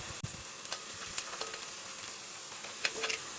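Cut garlic sautéing in oil with turmeric for lemon pickle, a soft, steady sizzle with faint clicks and stirring scrapes, close but quiet, no talk.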